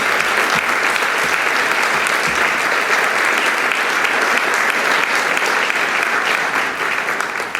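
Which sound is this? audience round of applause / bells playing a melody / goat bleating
audience round of applause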